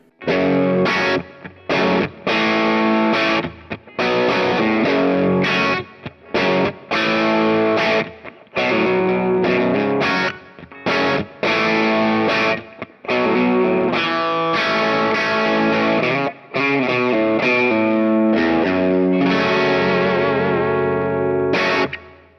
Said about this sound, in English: that's a cool overdrive sound